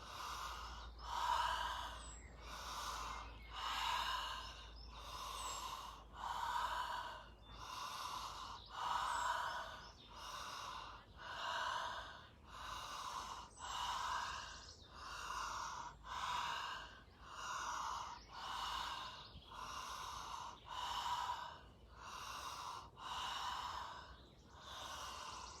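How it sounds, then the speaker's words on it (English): Deep connected breathing during a chakra meditation: slow, rhythmic inhales and exhales in a steady cycle of about twenty breaths, close and soft over a faint low hum, with no talking. "Stay present with your resource, with this deep connected breathing."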